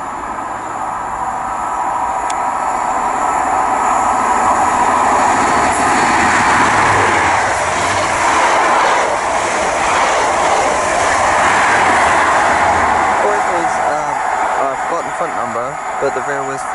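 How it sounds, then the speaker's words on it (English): A Great Western Railway HST diesel passenger train roars past nearby at Keynsham, a broad rumbling rush that swells, holds loud through the middle and eases off toward the end. "we have another Great Western Railway HST from London Swansea to London Paddington."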